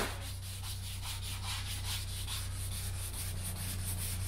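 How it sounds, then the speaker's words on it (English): Bus paint is wet sanded by hand with 800 grit paper and water, giving a soft, rhythmic rubbing that repeats in steady back-and-forth strokes over a low constant hum in the background. "off with 800 grit and a bit of water"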